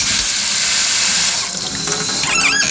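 Water gushes loudly from a sink faucet after the shut-off valve is reopened, a dense, steady rush close by that ends with a faint squeal.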